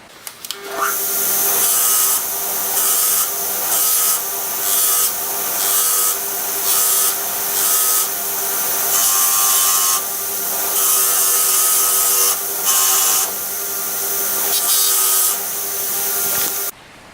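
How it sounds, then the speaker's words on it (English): A wire wheel on a bench grinder scrubs metal fasteners clean with loud, bright whirring and abrasive hissing. The sound comes in repeated bursts as parts are pressed on and lifted off the spinning wheel. "So wire wheel is definitely my favourite way of cleaning fasteners."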